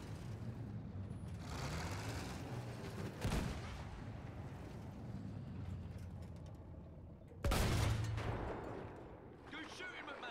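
Gunfire in Battlefield 1 rumbles at a distance beneath a steady battlefield din, with two heavier blasts standing out, while voices talk over it.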